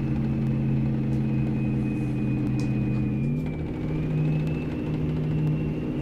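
A Mack Cruiseliner truck with a 12-speed Maxitorque gearbox climbs a grade in American Truck Simulator, its engine a steady, loud droning hum that dips briefly in pitch midway, then pulls on evenly.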